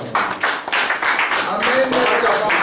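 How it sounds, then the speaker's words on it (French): A church congregation at a Christmas service claps for the mothers, brisk rhythmic clapping close by, with voices mixed in. "Acclamation pour les mamans."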